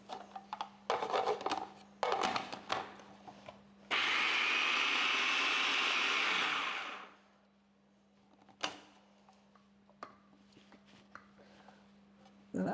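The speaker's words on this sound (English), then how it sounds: "so I'm going to add some olive oil here so we can get this to start blending" A food processor loudly whirs for about three seconds as it blends sofrito ingredients with olive oil in a home kitchen, a steady roaring burst set between quieter clatter and handling noises.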